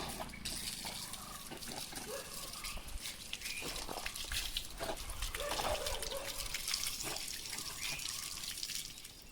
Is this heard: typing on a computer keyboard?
no